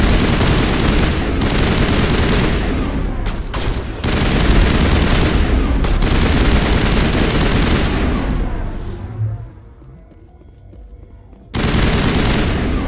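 Sustained automatic gunfire rattles in Mass Effect Legendary Edition, loud bursts chattering almost nonstop with brief gaps, then dropping to near silence before another burst erupts at the end.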